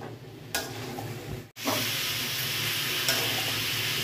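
Figs sautéing in a pan with other ingredients, a continuous close sizzle and hiss that drops out for a moment and then returns louder, with an occasional soft scrape of stirring.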